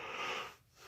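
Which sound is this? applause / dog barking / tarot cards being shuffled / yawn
yawn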